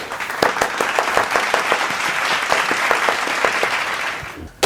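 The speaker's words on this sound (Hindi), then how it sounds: "एक बार ताली हो जाए ललवालाल लंपट यादव के लिए।" Audience on a quiz-show set applauds a contestant, with loud, close clapping that shows distinct individual claps inside a full, continuous burst that stops abruptly at the end.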